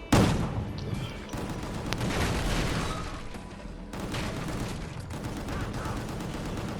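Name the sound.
gunfire from video game Gungrave G.O.R.E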